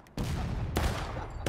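Musket gunfire in the video game War of Rights, two sharp loud shot bursts with a rumbling tail between them, heard alone without speech.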